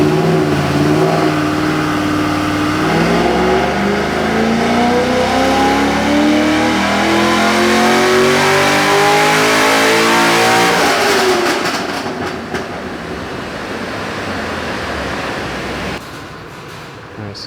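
A C6 Z06 Corvette engine on a tuning pull, revving loud and close with a climbing, strained roar that holds high before easing off into a lower, rougher idle-like rumble.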